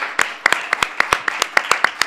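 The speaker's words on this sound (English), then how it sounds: "A round of applause, yes." A small audience at an art talk gives sparse, scattered hand claps: a dozen or so distinct, crisp claps at an uneven pace, close and moderately loud.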